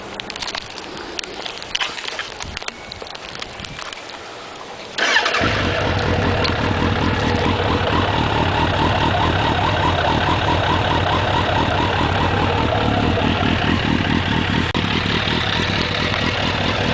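A 1998 Suzuki Bandit 1200 S with a Yoshimura exhaust cranks over with a rattling starter, then fires into a steady, loud, close-up idle that continues unbroken.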